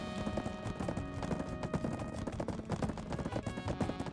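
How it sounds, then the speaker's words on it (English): Rapid, steady clip-clop of horse hooves as a horse is ridden down stairs in a video game, loud and close with no talking over it. "Always good to run your horse downstairs."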